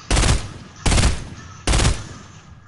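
Three loud, evenly spaced gunshot bursts from a first-person shooter game, each a sharp crack with a decaying tail, close and dominant with no talking.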